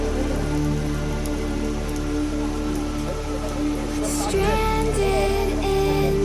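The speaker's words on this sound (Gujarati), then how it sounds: "વરસાદની સિઝન ચાલુ થઈ ગઈ" Steady rain falling, a dense continuous hiss with a low rumble underneath, growing a little louder near the end as faint tones and voices mix in.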